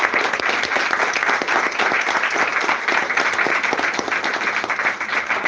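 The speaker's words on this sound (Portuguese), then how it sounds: "As palmas a Iau." A crowd applauds steadily throughout, dense clapping sustained at an even, fairly loud level from start to finish.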